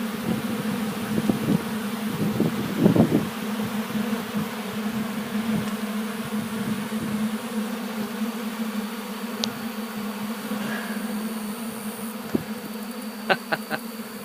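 Honeybees buzz around an open-air winter feeding station, a steady droning hum of many insects with a few nearer passes and faint rustling bumps, no speech.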